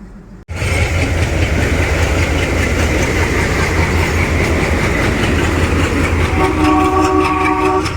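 A train rolls steadily on rails throughout, loud and continuous after a brief quieter opening, with rumbling wheels and some rhythmic clatter; a near horn-like tone appears toward the end. The ride arrives at Kampur, by the new Kopili river bridge in Assam.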